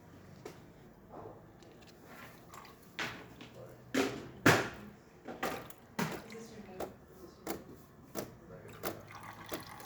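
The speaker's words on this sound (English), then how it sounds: "it's going to pump water first for a few seconds, and it's going to start pushing steam" A serviced DeLonghi Magnifica espresso machine pumps water, then pushes steam, giving irregular hissing bursts and gurgling spurts over a low mechanical hum, close by with a person talking.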